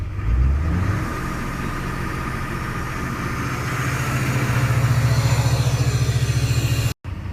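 A Duramax diesel truck engine idles steadily, then its pitch rises and settles into a faster, rhythmic high idle around 1800 RPM before briefly cutting out near the end.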